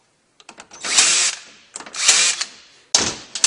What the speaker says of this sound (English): we're going to tighten these couple bolts that we had left loose before